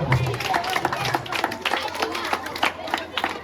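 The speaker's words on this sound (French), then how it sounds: "applaudis très fort" An audience applauding loudly at a children's celebration, rapid overlapping claps over crowd murmur, with voices speaking throughout.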